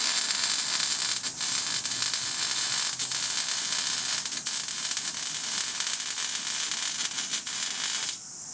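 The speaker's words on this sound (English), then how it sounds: "I will flip it over and weld that pattern on the back side for the extra strength" Steel being welded with a constant harsh crackling hiss that runs almost unbroken and loud, close to the torch, then drops away abruptly at the very end.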